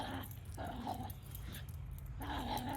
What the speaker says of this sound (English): Happy dogs.